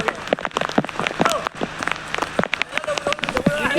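Rain falls steadily at an outdoor farmhouse gathering with a football match underway, its patter mixed with scattered sharp knocks and clatter while several people talk and call out nearby.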